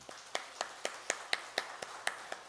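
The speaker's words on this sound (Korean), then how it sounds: "모든 영광을 하나님 앞에 올려드리는 감사의 박수를 한번 치겠습니다" Sharp hand claps from a church congregation, spaced irregularly and fairly faint over a low background hum.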